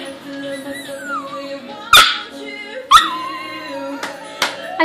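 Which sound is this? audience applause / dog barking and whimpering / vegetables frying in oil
dog barking and whimpering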